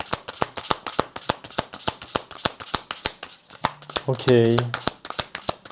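Tarot cards are riffled and shuffled in a quick, steady run of crisp flutters close by, with a brief spoken word in the middle of the shuffling.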